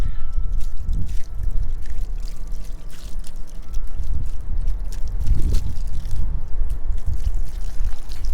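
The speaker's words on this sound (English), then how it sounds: "I'm gonna just rinse the cover real quick." The cover of a portable water softener is rinsed under running water, a loud close rush and splash of pouring water with uneven gurgles as the flow hits the plastic.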